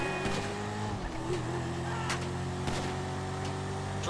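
A car driven fast in the video game GTA V, its engine holding a steady, fairly quiet drone with small shifts in pitch, with no talking over it.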